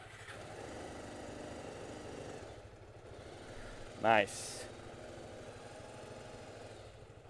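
A motorcycle engine idles steadily throughout, with a brief burst near the middle as it revs, and a voice speaks briefly over it.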